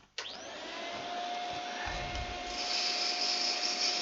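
A wood lathe starts up while a wooden apple or pear is sanded on it, giving a steady motor whine with a soft abrasive hiss that grows a little louder toward the end.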